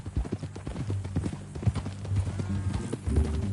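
Horse hooves clip-clopping in a steady, fairly close rhythm on hard ground, with some background noise and a brief murmur of voices.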